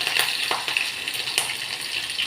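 Garlic and cumin seeds fry in hot oil for a tempering, giving a steady close sizzle with scattered sharp crackles and pops, heard alone without any talk.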